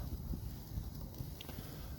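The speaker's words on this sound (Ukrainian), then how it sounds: "На вулиці невеличкий вітер." Light wind rumbles and buffets softly outdoors beside a campfire in the evening, a steady low whoosh with occasional gusts, no voices.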